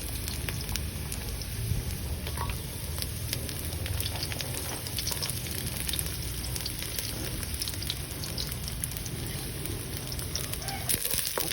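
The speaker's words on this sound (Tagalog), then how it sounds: "Okay, saute the garlic, onion, and the chilies." Garlic, onion and chilies sauté in a pan, giving a faint, steady crackling sizzle that carries on evenly with small scattered pops.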